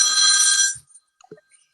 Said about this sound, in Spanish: Sonó el teléfono, es la alarma.